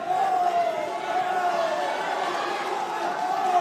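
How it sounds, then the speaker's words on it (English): At a boxing match in Bolton, a crowd roars steadily behind Jack Flatley, a dense wash of cheering and shouting that holds at full strength from start to finish. "And the crowd are getting right behind Jack Flatley here."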